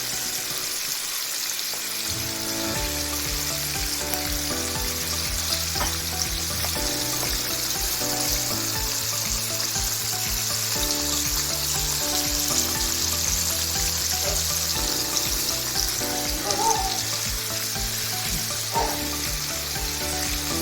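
Chicken pieces deep-fry in hot oil for homemade broasted chicken, a loud continuous bubbling sizzle close by, steady throughout with faint music underneath and no speech.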